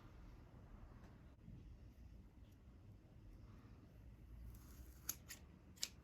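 Scissors cut synthetic braiding hair in half, making a few faint, quick crisp snips near the end over a low steady background hum.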